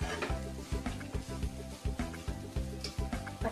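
Beetroot sweet being stirred in a pan with ghee, a spoon scraping in a steady repeated rhythm over a soft sizzle, close and moderately loud.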